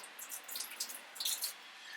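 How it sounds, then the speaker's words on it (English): Water splashes and trickles faintly in a kitchen sink as peeled egg shell scraps are rinsed off boiled eggs, with light, irregular patters throughout. "And you're just rinsing the little scrappy shells that come off here."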